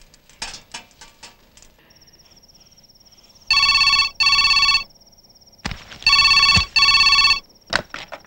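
A telephone rings in two double bursts, each pair of loud electronic trills followed by a pause. A steady faint tone sits underneath and brief knocks come before and after.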